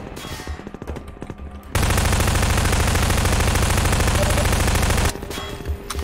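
Sustained rapid automatic gunfire in Half-Life 2, a dense continuous burst lasting several seconds between quieter stretches of game sounds, loud and close.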